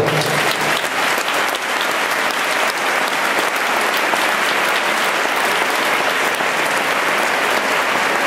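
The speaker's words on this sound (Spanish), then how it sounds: "el público debe agradecérselo también con un aplauso" Audience at a junior Latin dance competition in Armilla, 2011, breaking into a long, full round of applause, a dense even roar of clapping hands sustained at strong level for several seconds.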